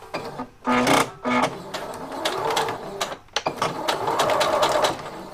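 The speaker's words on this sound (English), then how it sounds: "I'm sewing from the edge of the leather" A sewing machine stitching along the edge of leather, giving short mechanical bursts of needle rattle and scraping that come in uneven spurts up close.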